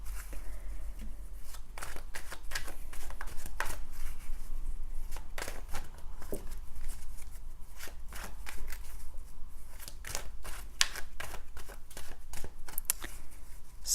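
A tarot card deck being shuffled by hand, heard as repeated soft riffling and slapping bursts at an irregular rhythm, close by and fairly quiet, with no talk.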